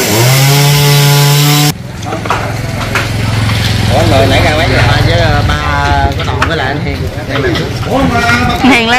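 A chainsaw whines at a steady pitch while cutting branches of a tamarind tree over 500 years old, then drops away as people talk over lively outdoor background noise.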